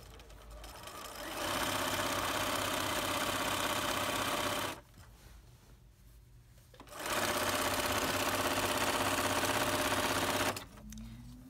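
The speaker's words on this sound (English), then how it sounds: "I have a larger foot on this machine. I don't have a quarter inch right now, but I'm just going to begin sewing." A sewing machine stitches the backing of a quilt with a larger presser foot fitted. It gives a loud, steady, close mechanical whir that runs for several seconds, stops briefly, then starts again for another long run before halting.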